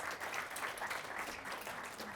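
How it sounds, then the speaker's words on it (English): An audience applauds steadily at an evening talk on how the brain learns, a dense, even wash of many hands clapping at moderate distance, fairly soft and unbroken throughout. "Big round of applause"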